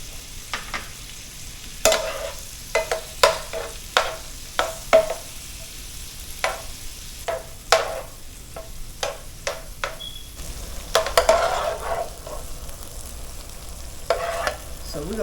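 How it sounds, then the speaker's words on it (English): Cajun-seasoned food fries in coconut oil in a pan during pasta cooking, with a soft steady sizzle broken by sharp, irregular clicks and scrapes of stirring. "Then we're going to add a little more of our coconut oil just to get them frying and cooking up."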